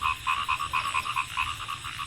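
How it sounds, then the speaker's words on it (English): A frog croaking outdoors in nature: a rapid, steady series of close, pulsing croaks repeating around four to five times per second, loud and clear against soft background noise, with no voices. "I mean the croaking sound. The sound that frogs croak."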